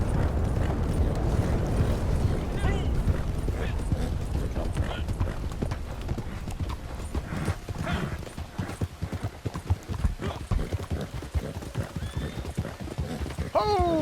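Horse hooves gallop in a steady clip-clop rhythm during a winter endurance race in Red Dead Redemption 2, with a horse whinnying and a train passing, under continuous talk from players.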